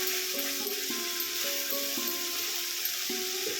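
Fish roe mixture stir-frying slowly in a pan over low heat, a steady close hiss of sizzling oil with faint scraping taps of a spatula throughout.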